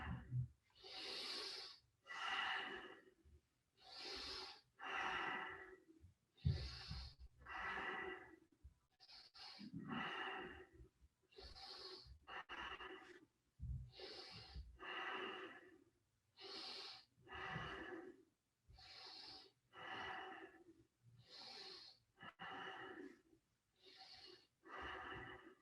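Rhythmic, forceful breathing through the nose during a Kundalini yoga warm-up for lung capacity and circulation, with steady repeated exhales and inhales at a brisk pace, close and fairly quiet, with no talking.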